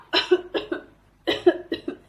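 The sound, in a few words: cough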